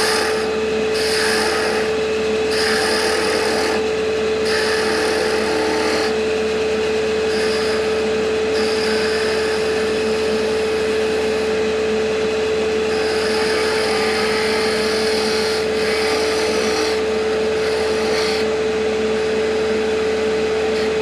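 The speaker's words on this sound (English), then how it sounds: "I'm going to switch over to my detail spindle gouge to form the little teardrop point" A detail spindle gouge shapes a small teardrop point on a wooden Christmas ornament spinning on a lathe, giving repeated short scraping bursts over the lathe motor's constant hum, fairly close and loud.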